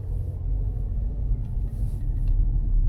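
A taxi car drives along a road in Dnipro, heard from inside the cabin as a steady low engine and road rumble with a few faint rattles, constant and moderately loud with no talk.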